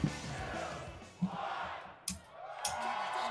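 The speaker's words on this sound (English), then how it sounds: "Oh wow, they actually had the crowd counting down." Crowd at the Splatoon 2 World Championship, E3 2018 in Los Angeles, chanting together in a loud, roaring theater, with rhythmic swells of voices like a countdown under broad crowd noise.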